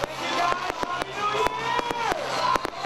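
New Year fireworks at Quezon Memorial pop and crack in sharp bursts at irregular intervals, mixed with distant crowd noise and whistling streaks.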